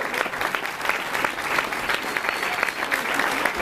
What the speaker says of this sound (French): Ce soir, il y a deux personnes que vous pouvez particulièrement applaudir